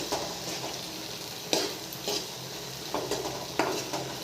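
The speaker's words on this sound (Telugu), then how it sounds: "పోపు వేసుకొని" Tempering spices frying in oil in a pan for a tomato egg curry, a close, steady sizzle broken by several sharp stirring clinks and scrapes, with no talk.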